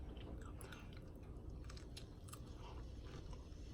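Close, crunchy chewing and biting of shrimp jambalaya being tasted, steady moist mastication sounds repeating for several seconds with no talking.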